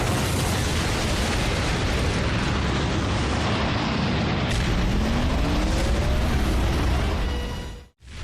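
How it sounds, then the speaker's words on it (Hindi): A loud, sustained cartoon explosion from the animated Transformers: Prime series, with a place blowing up in a dense, roaring rumble of blasts and bursts that cuts off abruptly near the end. "ये जगह फटने वाली है।"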